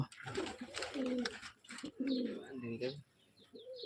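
Pigeons coo repeatedly in low rolling phrases, close and fairly loud, with softer chirps of other birds mixed in among a pigeon seller's stock.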